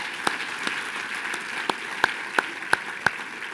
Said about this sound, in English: Give Wes a big round of applause.